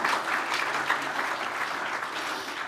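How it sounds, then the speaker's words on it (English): Audience applause at the National Press Club of Australia, a steady, dense clapping from a crowd that fills the whole short moment, loud and without talk. "we should give him a little clap for that"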